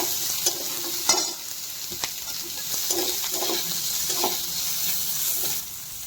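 Chopped onions and green chillies fry in hot oil with a steady close sizzle, broken by soft scraping stir strokes at irregular intervals throughout.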